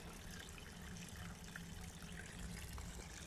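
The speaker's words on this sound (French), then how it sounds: "Un petit ruisseau, vous voyez, donc qui coule." A small stream flowing through a park, a faint, steady trickling and babbling of water with no break and no voices heard.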